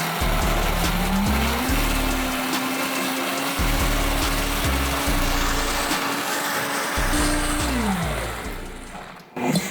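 A blender grinds tomatoes and their seeds at high speed, a loud steady motor whine with a churning roar that holds for several seconds, pitch shifting slightly before it winds down.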